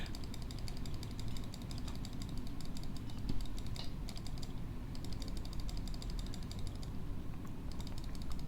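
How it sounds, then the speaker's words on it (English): A computer mouse is clicked rapidly and without pause while playing an indie PC game, a dense run of quiet close clicks over faint background hum. "Right, I'm clicking furiously. I don't know if you can hear that."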